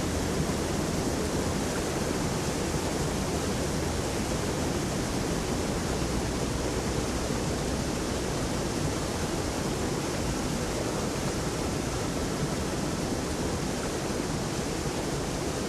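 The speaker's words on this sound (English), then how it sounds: "Very loud waterfall on the map here." Very loud waterfall in the video game Visions of Eternity: a dense, constant roar of crashing water that fills the whole stretch evenly, with no pauses and no voices.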